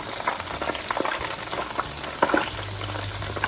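Minced pork cakes fry in hot oil, a dense, even sizzle that runs throughout with a few louder pops and bubbling surges, close and without talk.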